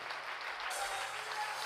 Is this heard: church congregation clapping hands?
yes